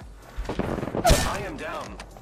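Gunfire in the Apex Legends video game, a burst of shots and a heavy impact around the middle, with game voices talking before and after.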